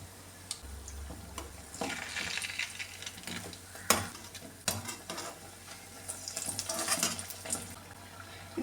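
Uzhunnu vada, urad dal fritters, frying in oil on a medium flame, a soft continuous sizzle broken by scattered clinks and scrapes of utensils, fairly quiet and close.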